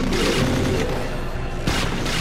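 Booming game explosion in Plants vs. Zombies 2, a dense loud blast layered over busy game music and effects, with a second burst near the end.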